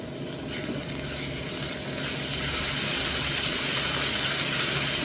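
Masala sizzling and frying steadily in hot oil for a spicy thin potato curry, a continuous close crackle that grows louder midway, no talking.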